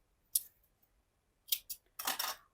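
Scissors snip through knitting wool thread, a few sharp close cuts spaced apart in a quiet room, ending with a longer rustling snip.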